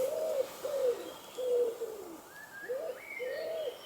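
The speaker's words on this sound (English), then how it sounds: "Sound of the wood pigeons" Wood pigeons coo in a garden, a run of soft, rhythmic hollow calls at moderate distance, with faint chirps from other birds overlapping near the end.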